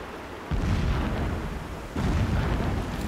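Distant explosions boom in the video game Horizon Zero Dawn. Two deep rumbling blasts land about a second and a half apart, each swelling suddenly and then rolling on with a long low tail.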